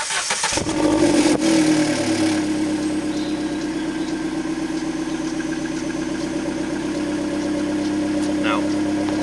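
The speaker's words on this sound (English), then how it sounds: "I'm going to start it, let it warm up, and give it a couple of revs" A car engine cranks and catches, then settles into a loud, throaty idle with a deep rumbling exhaust and slight revs.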